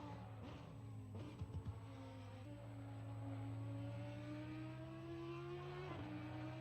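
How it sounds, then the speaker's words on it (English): Audi Quattro race car engine in a racing video game at WeatherTech Raceway Laguna Seca, droning steadily with a rising pitch as it accelerates through the gears, a few brief thumps early on, loud and close with no talk. "Car number 11, the Audi Quattro,"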